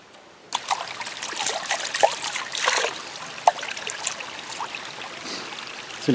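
Water trickles steadily outdoors as it is poured out, a continuous close splashing dribble with a few sharper splats, running alone without voices.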